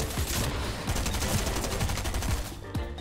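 Rapid SMG fire in a video game, a dense continuous burst with repeated sharp low thumps running for nearly three seconds, loud and close with other game sounds mixed in.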